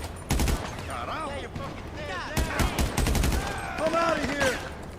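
Heavy weapons from the GTA 5 Business Pack fire in short, punchy bursts of a few rounds each, loud and close, with pauses between volleys and a voice talking over parts of the shooting.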